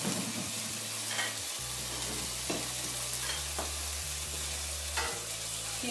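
Asparagus fries in oil in a pan with a constant crackling sizzle, interrupted by a few sharp scrapes and clinks of stirring.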